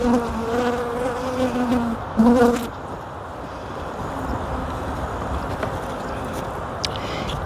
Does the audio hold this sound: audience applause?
no